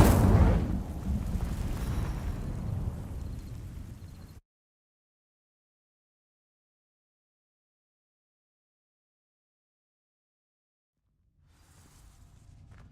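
A fire spell burning dry vines in a video game erupts with a loud, broad whoosh and crackle that fades over about four seconds, then cuts to silence before faint ambient rumble returns.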